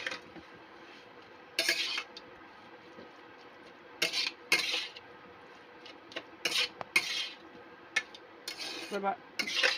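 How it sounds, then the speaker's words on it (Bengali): Eggplant frying with fish oil in a pan: a steady low sizzle broken by sharp, irregular bursts of scraping and stirring against the metal, close up. "বেগুনটা কিছুক্ষণ ভেজে নেওয়ার পর দিয়ে দিলাম এর মধ্যে ধুয়ে রাখা মাছের তেলটা এবার এটাকে এর সাথে ভালো করে ভাজতে থাকবো"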